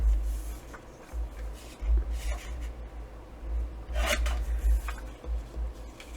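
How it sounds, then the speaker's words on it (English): Paper is cut into strips by hand, giving soft, close scissor snips and rasping slides of the sheet, spaced irregularly over a low steady hum, with no talking. "And then I'm just going to cut the strips apart."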